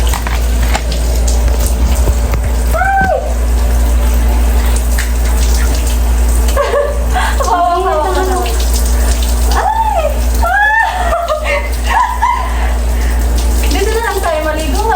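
Shower water runs continuously with a loud steady hiss and low hum while several people talk and laugh nearby over the spray.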